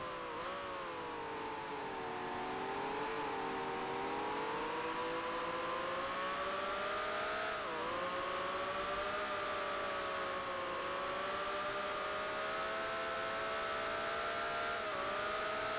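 A 1965 Formula 1 Ferrari race car engine screams in Grand Prix Legends, a sustained high-pitched whine rising and dipping with gear changes and throttle, loud and close, with no voices.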